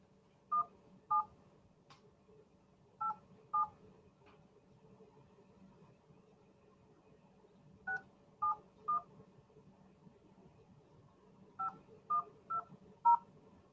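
Telephone keypad tones dialing out to call a prospect named Gustavo, short paired beeps arriving in small bursts separated by pauses over a low steady hum, with no talking.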